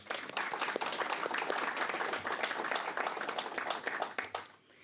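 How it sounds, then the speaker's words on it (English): A room full of people claps in a dense, steady round of applause that carries on for several seconds at full strength, then thins out and fades at the end. "Let's give them a round of applause."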